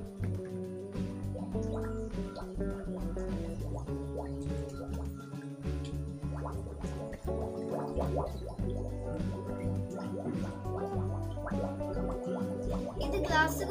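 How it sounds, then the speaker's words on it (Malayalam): A glass bottle sinking in a bucket of water and filling, with continuous gargling, glugging bubbles and dripping throughout, close and fairly loud. "ആദ്യമായി ഈ കുപ്പിയെ ഞാൻ വെള്ളത്തിലിടും."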